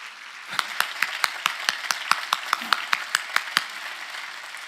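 Church congregation clapping in unison during a sermon, a steady rhythmic series of about fourteen sharp, evenly spaced claps in a reverberant hall.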